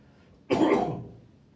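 One close, abrupt cough during an indoor interview bursts out sharply and fades over about half a second, with no talk around it.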